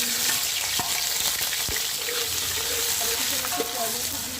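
Two large onions are added to one and a half cups of hot ghee for matar pulao, giving a loud, continuous close sizzle with a few spoon scrapes and stirs.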